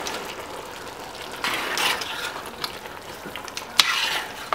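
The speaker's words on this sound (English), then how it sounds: "I'll give this a stir." A spoon stirs parboiled potatoes and fresh Thai basil through simmering panang curry, with bursts of wet scraping and clattering strokes over a soft sizzle, close and alone with no talk.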